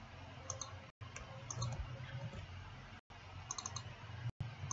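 Mouse clicks on a computer while formatting graphs in Origin software, a few faint, sharp clicks scattered over a low steady hum, with brief dropouts of silence.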